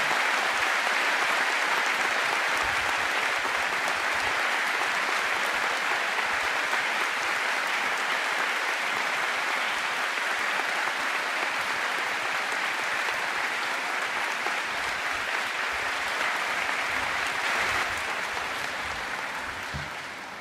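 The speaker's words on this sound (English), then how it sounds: "It's okay to stand up and applaud, students, if you'd like to." Sustained applause from a large audience at a college commencement ceremony, a steady dense roar of clapping that holds evenly for about twenty seconds before easing slightly at the end, no voices on top.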